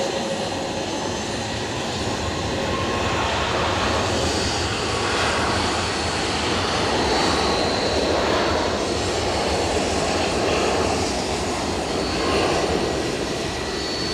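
A United Airlines airliner departing Edinburgh Airport makes a loud, sustained jet engine roar with gentle swells in level, continuous and close for the whole stretch, with no voices.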